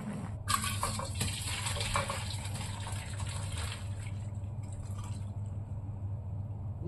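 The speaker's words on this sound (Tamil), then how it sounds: "இதை ஃபில்டர் பண்ணிடுவோம்." Boiled pasta water gushes out of a pot through a strainer in a home kitchen, a loud broadband rush for about four seconds that thins into a quieter trickle, with a low steady hum beneath and no talking.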